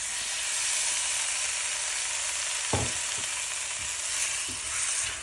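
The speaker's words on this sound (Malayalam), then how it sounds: "ഞാൻ മാരിനേറ്റ് ചെയ്ത് വെച്ച ചിക്കൻ ഇതിലേക്ക് ആഡ് ചെയ്യാണ്" Marinated chicken sizzles in a hot pan for a South Indian chicken curry, a loud continuous frying hiss with a few soft thuds and scrapes as pieces land and are stirred.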